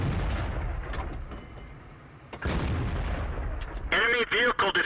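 Tank cannon fire in a World of Tanks-style video game from an E25 tank destroyer: heavy booming shots with rumbling tails, then ringing metallic impact sounds near the end, loud and close, with someone talking over them.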